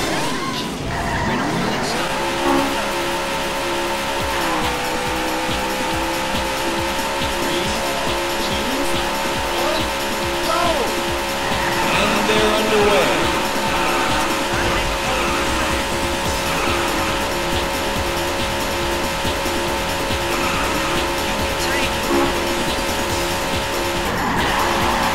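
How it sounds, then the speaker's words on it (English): Race cars in the Daytona arcade racing game roar with sustained high engine whine and repeated tire squeals and skids, loud and continuous throughout with no voices. "Gentlemen, start your engine."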